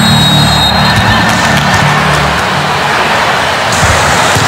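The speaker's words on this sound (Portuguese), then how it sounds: "E a torcida continua fazendo a festa aqui, a ola continua" An arena crowd at a women's South American volleyball championship match, Peru against Brazil, roars and cheers continuously while doing the wave, a loud, dense wash of voices and whoops that fills the clip.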